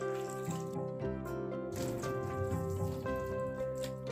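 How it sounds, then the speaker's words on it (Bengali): Flattened rice (chira) being rinsed with water, soft drips and splashes heard under steady tonal background music, close and fairly quiet. "চিড়েগুলোকে 2 থেকে 3 বার জল দিয়ে ভালোভাবে ধুয়ে নেব"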